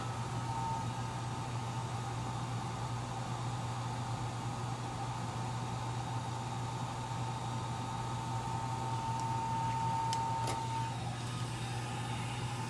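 A hair dryer runs steadily on a low setting, a constant even whir with no pauses, close and fairly loud throughout.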